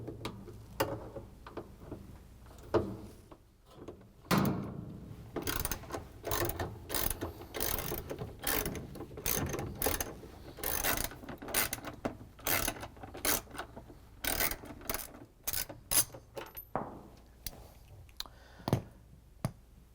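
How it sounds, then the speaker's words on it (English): Socket ratchet fitted with a 3/8 inch socket and extension, loosening the three bolts holding the drain pump on a GE washing machine; rapid close clicking of the pawl in repeated bursts of strokes, with no talk. "use a 3/8" socket with the ratchet and the extension again to take out the 3 bolts that hold the drain"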